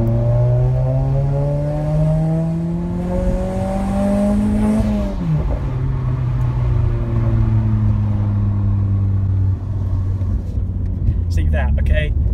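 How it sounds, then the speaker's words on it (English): A loud car engine revs hard on an empty road, pitch climbing through a long pull, dropping with a gear change, then holding a steady drone before crackling pops at the end. "I'm just going to demonstrate what I mean when I say this car is obnoxiously loud sometimes."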